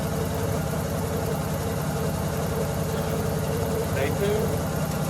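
An engine idles, a 1984 Nissan 300ZX sitting at a low, even idle, a steady rumbling drone close by with a faint thin chirp near the end.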